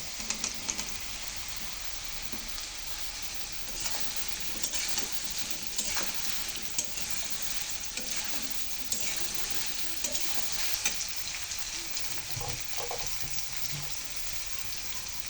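Soya chunks go into a pan of fried potatoes, and a continuous close sizzle of oil follows, with scattered scraping and tapping from stirring throughout.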